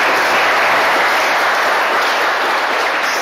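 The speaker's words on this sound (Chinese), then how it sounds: "要的请鼓掌。" An audience at a Buddhist dharma talk claps steadily, a dense, loud and unbroken wash of applause with no voices over it.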